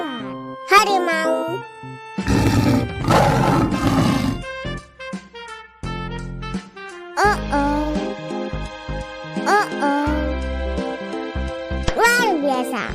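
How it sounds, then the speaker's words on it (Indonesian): Tiger roaring amid a bright children's animal-learning tune, a broad rough burst in the middle over jingly music, with a voice nearby. "harimau"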